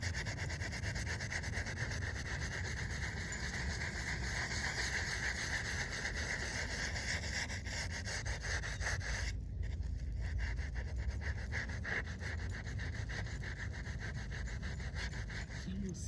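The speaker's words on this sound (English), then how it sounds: "One last scrubbing up here." Steady scrubbing of an old headstone in the Salem United Methodist Cemetery, a continuous close rubbing and brushing texture that runs the whole time with no pauses and no talk.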